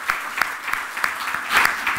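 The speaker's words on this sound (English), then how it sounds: "So I think that did deserve a larger round of applause from all of us." Applause from a seated audience at a philanthropy governance panel discussion, a brief moderate patter of clapping with scattered sharper claps, lifting slightly near the end.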